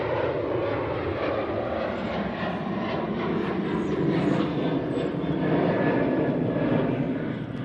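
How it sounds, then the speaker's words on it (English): A standard Boeing 737-800 jet airliner passes at Manchester Airport, its engines giving a steady, rumbling roar that swells slightly midway and holds at a moderate level throughout. "It's just a bog standard 737, this one, so no crinkle cut engines."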